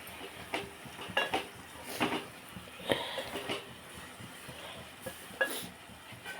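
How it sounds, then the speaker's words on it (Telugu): A metal lid goes onto a pot of tomato curry, giving a few sharp ringing clanks spread over several seconds against a soft hiss of cooking. "మూత పెడతాను"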